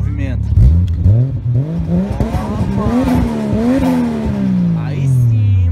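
Toyota Supra engine revving hard in repeated rising and falling sweeps, loud and close, with voices talking over it.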